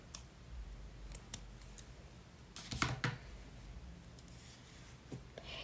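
Scissors snip through the cut end of Alize Puffy Fine yarn during hand knitting, a few quiet clicks and one brief, crisper cut standing out over faint room noise.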